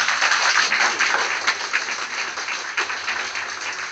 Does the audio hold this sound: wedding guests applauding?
yes